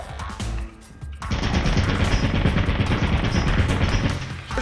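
A turret in the video game Lethal Company opens fire in a loud, continuous rapid burst of automatic shots that runs for several seconds after a brief lull, with no talk over it.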